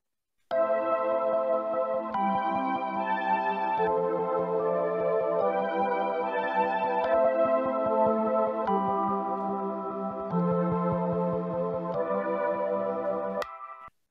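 Sampled beat built from a looped flute line, a vocal sample and Rhodes electric piano chords, playing steadily with no talk, repeating in bars with a rhythmic pulse before stopping abruptly near the end.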